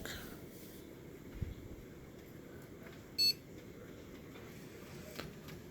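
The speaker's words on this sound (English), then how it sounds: "Oh, the beep is good, so." A single short, loud electronic beep from a computer starting up after a RAM upgrade, sounding once against a quiet room hum.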